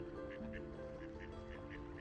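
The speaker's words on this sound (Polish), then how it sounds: "Ta dość ładnie wyglądająca kaczka o białym zabarwieniu i z żółtym dziobem to rzadko spotykany osobnik." A white duck with a yellow bill quacks in a steady series of short, evenly spaced calls, close by, over a constant background hum and low voices.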